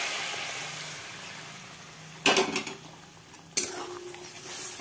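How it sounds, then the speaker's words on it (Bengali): Hot water poured into reddened masala frying in oil in a home Bengali kitchen, giving two sharp, loud sizzling bursts a second apart over a low background hum. "তো বন্ধুরা এখন দেখো এর মধ্যে গরম জল অ্যাড করছি।"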